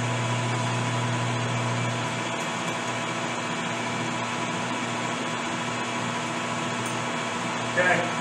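Metal lathe spinning a rifle barrel during a cutting pass in a Winchester 70 Super Sport rebuild, a steady close mechanical hum and whine that shifts slightly as the machine speeds up, ending in a brief louder burst.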